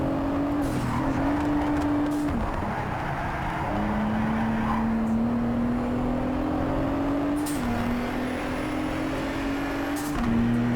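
Race car engine in the Project CARS 3 racing game drones at high revs, its pitch stepping down at each gear change, with occasional brief bursts of tire noise across a steady loud run.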